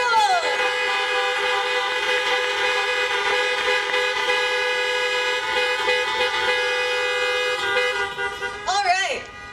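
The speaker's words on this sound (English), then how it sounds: "class of 2020, honk your horns if you are excited to be done with high school!" Many car horns honk together at a drive-in high school graduation for the class of 2020, a loud sustained chorus of overlapping tones holding steady for several seconds before trailing off.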